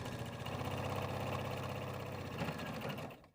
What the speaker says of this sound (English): it's time to sew it using a 1/4 inch seam